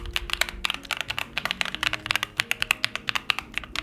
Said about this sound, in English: I've got the RK Royal Kludge RK S98 keyboard